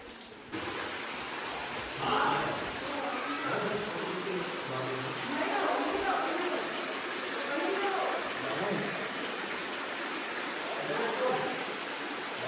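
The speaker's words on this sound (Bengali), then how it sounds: "কন্টিনিউ জল বয়ে চলেছে ভিতর থেকে।" Water flows continuously out of a large limestone cave in Meghalaya, a steady, broad rushing wash close by, with faint voices talking underneath.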